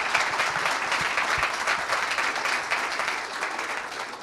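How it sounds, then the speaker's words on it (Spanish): Strong applause from an audience after an economics talk, a sustained dense roar of many hands clapping, loud and continuous with no talk over it. "lo despedimos con un fuerte aplauso"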